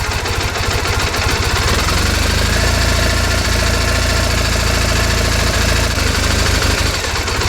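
A 2001 Triumph Bonneville motorcycle engine idling at very low speed, a loud, steady, close-up rumble with an even, thumping pulse that continues without a break and without speech.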